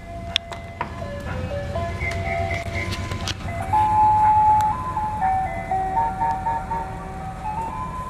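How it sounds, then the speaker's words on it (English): An ice cream truck's tinkling electronic tune plays over a low idling engine rumble, steady and moderately near. "It's the ice cream truck."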